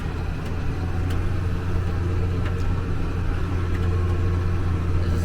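A tractor pulling a dirt scraper in four-wheel drive while levelling a site, its engine droning steadily and loudly throughout under a constant low hum, with no speech.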